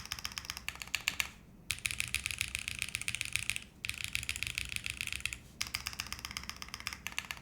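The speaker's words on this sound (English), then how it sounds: "Oh, I'm typing in chat." Rapid clacky keystrokes on a custom mechanical keyboard with unicorn-style keycaps, typing in steady bursts broken by two short pauses, close and clear with no voices.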